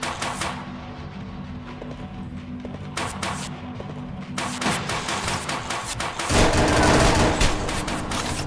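Gunfire in a video game rattles in irregular bursts over a droning backdrop, growing louder and denser toward the end, with no talking.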